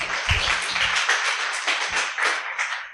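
Audience at a Reston tech talk on cybersecurity breaking into applause, a dense wash of clapping from a modest crowd that stays steady for a few seconds, with a couple of low thumps near the microphone.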